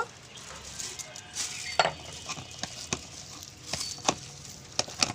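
Papaya fritter batter being mixed by hand in a bowl, giving soft wet squelching and stirring noises with a few sharper taps against the bowl, close and moderately loud.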